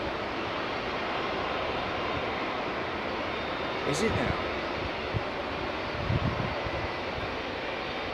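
The engines of a jumbo jet turn over at Heathrow Airport at night as a steady, distant rumble with a few faint thumps, while a person briefly speaks close by.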